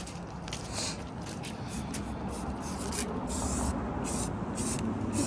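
Pink paint being sprayed onto car engine bay parts, a steady close hiss that swells and fades in short bursts over a constant noisy background, with no talking.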